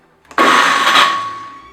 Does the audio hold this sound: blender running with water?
yes